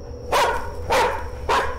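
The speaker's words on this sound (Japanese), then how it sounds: "めっちゃ下向いて吠えるやん" A dog barks three times in steady succession, loud and close, each bark short and sharp over a faint background hum.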